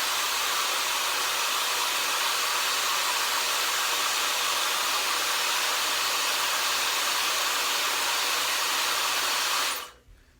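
Hair dryer fitted with a diffuser, drying curly hair: a loud, steady, close airy roar that runs unbroken and then switches off abruptly near the end.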